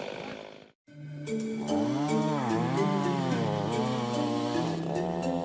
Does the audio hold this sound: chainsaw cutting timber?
yes